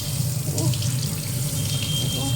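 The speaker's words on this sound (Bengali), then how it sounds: "ঠান্ডা জল নিচ্ছি, দেখুন লাল হয়ে গেছে দেখলে।" Cold water runs steadily from a tap over a hand, a continuous close splashing rush with no break.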